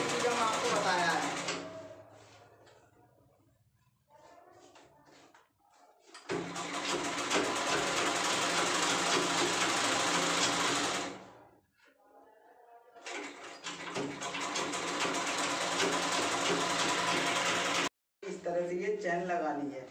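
A sewing machine stitches black fabric onto a travel bag side pocket, with long loud runs of whirring motor separated by pauses where someone talks.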